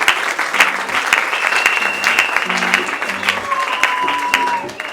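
A church congregation applauds together in sustained, dense clapping that stays loud and close throughout, with some voices mixed into the crowd.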